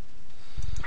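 A duck quacks in a blocky Minecraft-style video game, a short nasal quack near the end of the second after brief low thumps, loud and close with no talk.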